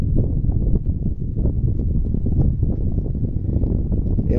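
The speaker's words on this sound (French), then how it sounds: "Je vous montre la force du vent, regardez." Strong headwind buffets the microphone outdoors during a bicycle trip, giving a continuous loud low roar with gusty rustling throughout.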